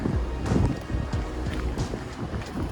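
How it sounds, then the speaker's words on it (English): Steady wind gusting across an exposed open road at the end of the world, loud and buffeting on the microphone with a low rumble throughout, no talk. "The wind never stops here"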